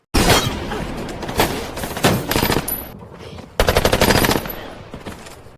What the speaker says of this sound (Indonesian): Martin tetap lihai menembak dengan snipernya, dan mampu membuat senjata dari Charlie tidak bisa digunakan